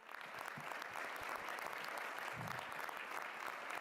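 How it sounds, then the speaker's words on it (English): Crowd at FC Barcelona presidential election results applauding steadily, a dense even patter of many hands heard from a distance at low level. "We thank you all and an applause for all of you."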